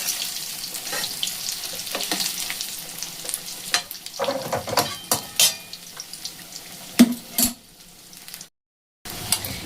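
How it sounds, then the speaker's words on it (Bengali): Cauliflower and cabbage pakoras fry in hot oil with a steady, close crackling sizzle, sharper pops scattered throughout, and a brief silent gap near the end. "দেখুন এগুলো কিন্তু খুব সুন্দর ভাজা হয়ে গেছে"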